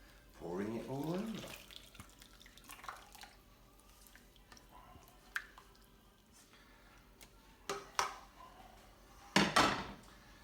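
Wine and sauce from a jar poured over chicken for coq au vin, with wet splashing bursts at the start and a few sharp liquid splashes near the end, quiet clinks and rustles between.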